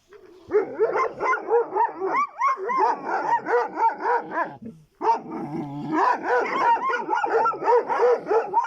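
Several Kangal puppies bark and yip in a rapid, overlapping frenzy, high-pitched and close, with brief whimpers and a short lull midway.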